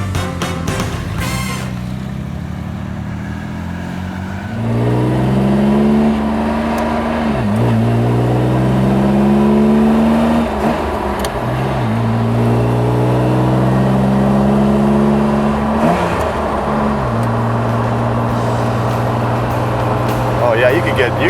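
Classic car engine, a 1947 Alfa Romeo SS or 1962 Aston Martin DB4, accelerating through repeated gear changes with rising whines and drops, close and loud, after a brief opening of talk.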